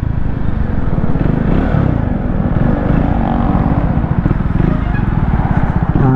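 A 2024 Triumph Speed 400 motorcycle roars loudly and continuously while being ridden, its engine drone steady and close, with a rider speaking over it at times.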